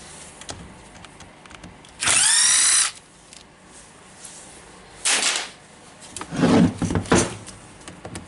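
A power drill fitted with a bit whirs in one loud, steady burst of about a second during repair work on a Bosch GBH 5 DCE SDS-Max hammer drill, followed by quieter handling clatter and shorter mechanical bursts.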